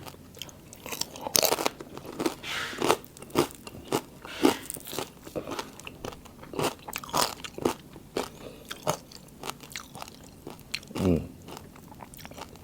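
Crispy Thai pork belly being bitten and chewed up close, loud crunches and crackles repeating irregularly through the whole stretch with wet chewing between bites.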